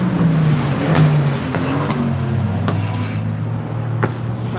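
Cars pass on the street below a balcony, their engines rising and fading as they go by, with a steady traffic rumble and a few sharp knocks between passes.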